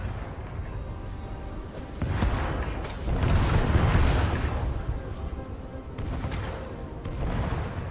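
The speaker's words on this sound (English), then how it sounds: "I got shot in the face by a cannon." Deep booming blasts of cannon fire in Stories: The Path of Destinies roll out over several seconds, loud and rumbling with a dense low-end roar and no voices.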